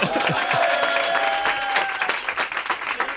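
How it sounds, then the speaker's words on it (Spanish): An audience applauds the villain at a live comedy show, a steady wash of many clapping hands with some whistling tones above, fading slightly toward the end. "un fuerte aplauso para nuestro villano"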